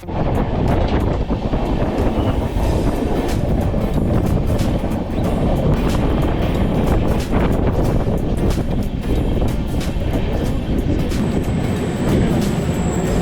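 Continuous rumble and rattle of the moving Deccan Queen Express near Lonavala, steady and loud throughout, with wind buffeting and clattering wheels; no voices.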